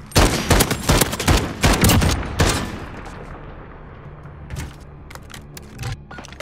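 Rapid bursts of automatic gunfire crackle loudly through a video game gunfight, dense for about three seconds, then thinning into scattered distant shots over a low background.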